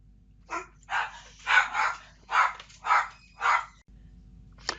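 A dog barks indoors in the background, six or seven separate barks in a steady run, each fairly loud and distinct over a low steady hum, followed by a brief final yip.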